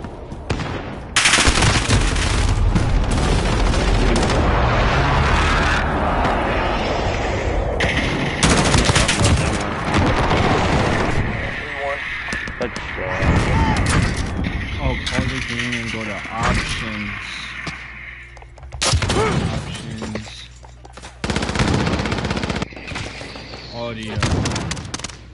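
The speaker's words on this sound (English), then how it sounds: "Enemy precision airstrike inbound." Gunfire and explosive blasts from an enemy precision airstrike in a Call of Duty match, loud dense bursts and rattling through most of the clip, with voices talking over the chaos.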